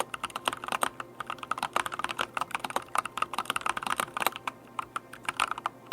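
Mechanical keyboard with new switches and O-rings fitted on the keycaps, typed on in quick, irregular bursts of close, slightly muted clicks with no talk.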